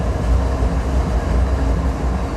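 A Santa Fe freight train rolls past in Wilmington, California, a steady heavy low rumble of wheels and undercarriage, loud and close, continuous throughout with no talk.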